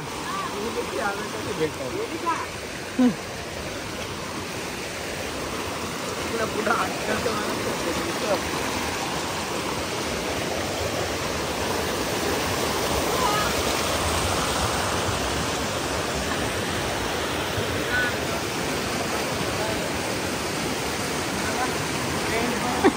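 A forest waterfall roars as a continuous, broad rush of falling water, steady and fairly close throughout, with faint voices occasionally audible beneath it.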